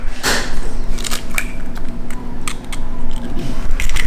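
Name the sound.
electric mixer whisking cheesecake batter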